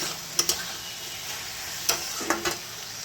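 Aloo posto cooking in a pan, a soft low sizzle beneath a few sharp spatula taps and scrapes in small clusters.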